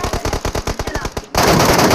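Rapid bursts of automatic gunfire from the PUBG Mobile battle royale game, a steady run of sharp close shots followed by a sudden loud, dense blast of noise.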